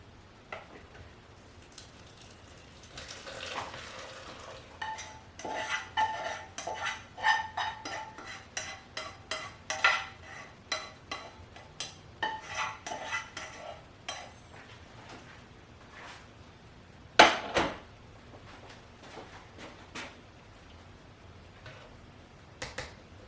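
Raspberry mixture being scooped from a pot and poured through a fine strainer, heard as scattered clinks, taps and scraping of utensils against metal, with irregular bursts and pauses over quiet room tone.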